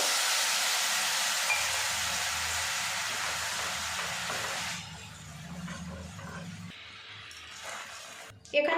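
Sugar with a little water caramelizing in a hot pan gives a loud, steady broadband sizzle and hiss for several seconds, then drops to a quieter bubbling with faint background noise.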